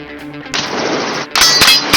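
Rifle shots fired from a helicopter over a Texas ranch crack out in two loud, close bursts with ringing echoes, separated by a short pause.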